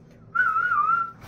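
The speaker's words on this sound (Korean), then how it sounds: "휘파람은 그냥 잘 나고요." A person whistles a single sustained, wavering note for just under a second, close and clear, in a quiet room after eating a cracker, with no talk.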